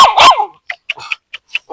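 A village dog barks at close range: one loud bark followed by a quick run of short, sharp yips.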